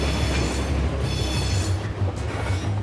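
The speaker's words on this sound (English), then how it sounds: "Right now, I'm just conditioning the brakes, getting them ready to go down the hill." A heavy 15,000-ton freight train rolls with its brakes being conditioned before a downhill mountain grade, a loud continuous rumble of rail noise with a low droning hum and faint squealing from the wheels.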